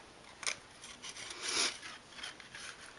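Scissors snip off a piece of craft material while making a Halloween wreath, with a few short, close cutting sounds and soft rubbing between them.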